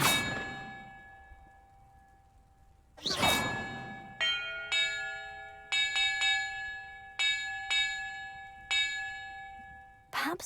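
Bells rung one after another in Hogwarts Legacy, each a loud metallic clang with a long ringing decay, struck at uneven intervals with several overlapping tones and short silences between strikes.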